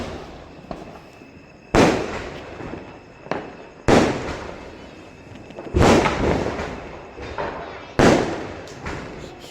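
Sky shot fireworks burst during Diwali celebrations, four loud sharp explosions spaced about two seconds apart, each with a crackling tail, over a low murmur of background noise.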